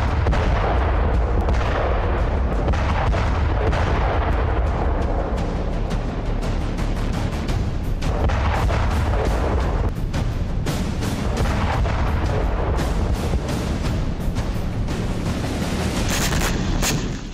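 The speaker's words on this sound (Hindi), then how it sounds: "गोलियों की तड़तड़ाहट" Gunfire and artillery in Ukraine war footage, a loud, unbroken wall of rapid shots and booms that keeps up steadily throughout, with no voices.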